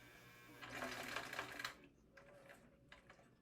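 A sewing machine runs a finishing top stitch along the edge of a minimalist wallet, a quiet rapid mechanical whir for about a second, then fainter intermittent short stitching bursts.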